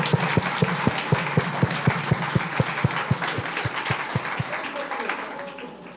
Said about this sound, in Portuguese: vamos dar um aplauso a elas